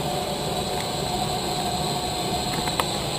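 A blower fan feeding air into a maple sap cooker drones steadily with a broad, even whoosh of air, loud and close, with a couple of faint clicks near the end.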